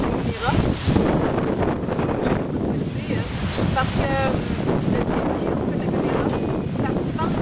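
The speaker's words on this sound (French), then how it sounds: "excusez-moi avec le vent, j'espère que ça ne fera pas tomber la caméra." Strong gusty wind buffets the microphone steadily outdoors in a park, a broad roaring rumble, while someone speaks French over it.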